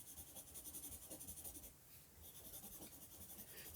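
A 2B pencil shades on paper with a soft, steady scratching that runs continuously at close range and quiet level, with a brief dip midway.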